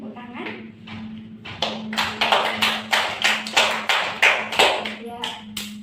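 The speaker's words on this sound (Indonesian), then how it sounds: "mari kita berikan tepuk tangan." A classroom full of students claps for a classmate, a steady rhythmic round of applause in brisk beats, loud and close, starting after a brief murmur of voices.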